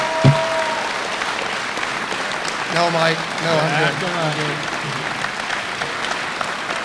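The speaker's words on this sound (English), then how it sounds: "Could we get a round of applause for the East High Ring of Honor members?" Audience applause for East High Ring of Honor members at a 2014 ceremony, a steady wash of clapping from a crowd throughout, with someone speaking briefly over it midway.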